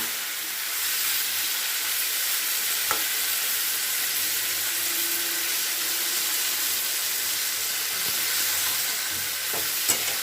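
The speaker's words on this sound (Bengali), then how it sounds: "এটাকে মশলাটাকে খুব ভালো করে কষিয়ে নিতে হবে" Spiced masala frying in a pan for a bitter gourd and potato curry, a steady close sizzle and hiss throughout with a few soft clicks of stirring.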